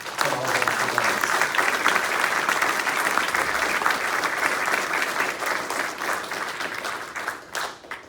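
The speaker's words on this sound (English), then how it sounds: "Could we get a round of applause for all of them?" A museum audience at an 80th anniversary D-Day veterans panel applauds, steady and full for several seconds, then tapers off with scattered final claps.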